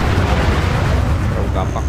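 Gunfire in the mobile tactical shooter Tacticool rolls out as a dense, loud, continuous wash of shots and booms with no distinct gaps.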